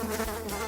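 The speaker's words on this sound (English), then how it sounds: "Housefly." A housefly buzzes steadily and close by, a continuous drone with no pauses and no voices.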